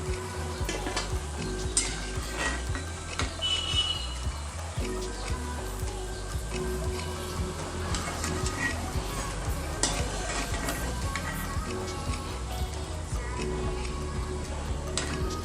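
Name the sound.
onion pakoda frying in oil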